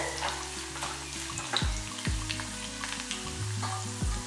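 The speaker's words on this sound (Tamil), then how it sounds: "நல்லா செவக்க வதக்கிடுங்க" Garlic fries in a pan for Tamil poondu kulambu, a garlic curry, with a steady close sizzle throughout and a few soft stirring scrapes.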